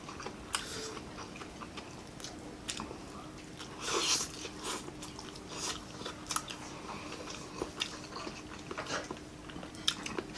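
Crisp, repeated crunching of fried dried fish being chewed up close, a steady run of sharp snaps and crackles with no talking.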